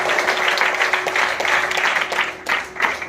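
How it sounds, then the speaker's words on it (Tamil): Applause from the audience at a Rotary club event in a hotel, honouring the hotel's general manager; dense, steady clapping fills the whole stretch with a faint sustained tone running underneath. "நல்ல ஒரு கைத்தட்டல் கொடுத்துருங்க"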